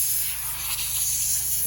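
Continuous airy hiss of a spray nozzle applying cleaner to a car's AC evaporator, steady and close, with a low mechanical hum underneath.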